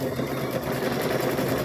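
A sewing machine stitches quilt strips together, a steady close mechanical whir running without a break and with no voices.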